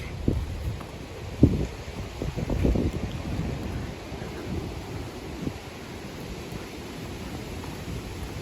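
Steady low rumbling typhoon wind buffets the microphone, with occasional louder gusts and no voices.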